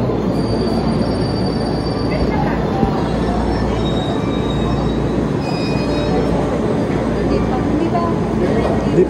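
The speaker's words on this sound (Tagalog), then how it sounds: "So yan ang train natin." A JR line train at a station in Osaka, Japan, rolls through with loud steady rumble and high wheel squeal throughout, with people talking nearby.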